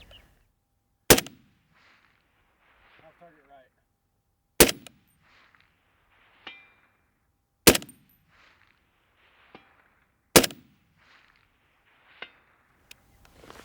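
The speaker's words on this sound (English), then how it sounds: "We're gonna go ahead and shoot this at the same distance, 550." Four loud, sharp rifle shots from a SCAR H battle rifle firing 168 grain SMK rounds at a 550 distance target, evenly spaced about three seconds apart, each with a brief echoing tail and faint distant pings between them.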